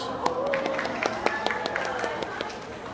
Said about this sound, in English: You should clap because they're really cute